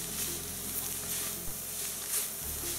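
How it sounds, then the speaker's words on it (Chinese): Dried vegetables stir-fried with sugar in a wok over low heat make a soft steady sizzle, with faint scraping as they are turned, under a low background hum. "然后继续翻炒，要把这个菜呢炒透"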